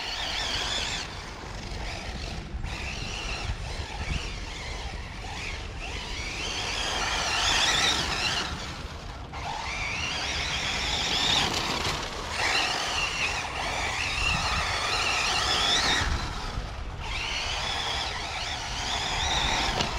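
Arrma Typhon 6s V5 RC car running outdoors with 300k diff fluid, its electric motor whining and surging under throttle at moderate distance, rising and easing repeatedly over a steady background hiss, no talking.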